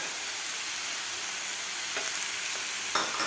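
Cauliflower and carrot pieces stir-fry over high heat with a loud, constant hiss of sizzling oil, close up. A couple of light utensil clicks come near the end.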